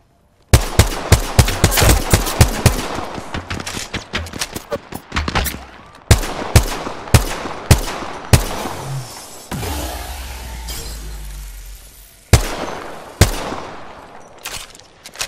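Gunfire in Apex Legends rattles close and loud: rapid automatic bursts, then spaced single heavy shots with short pauses between, alone without talk.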